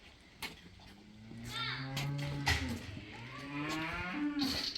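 Cows moo in a maternity pen on a farm, several drawn-out, fairly close calls overlapping one another, with voices of people and children talking in the background.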